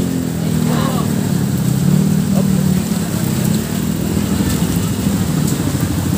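Motorcycles and cars move along a packed road in Marikina City during heavy traffic, giving a steady engine rumble and road noise that runs through the whole stretch with no pauses.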